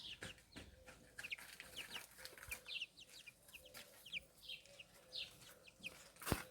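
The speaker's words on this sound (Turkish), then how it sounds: "tavuklarımız var" Chickens cluck repeatedly in the garden of a village house in Muğla, Turkey. Short, bright calls come at an irregular rhythm at moderate distance over a soft outdoor background, with one sharper, louder cluck near the end and no talking.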